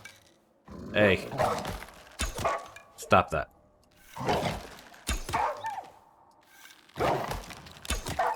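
Dog in the survival video game Icarus barking in several loud, close bursts, sharp barks separated by short pauses, with someone talking between them.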